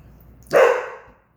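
A dog barks once nearby, a single loud, sharp bark in the middle of an otherwise quiet stretch.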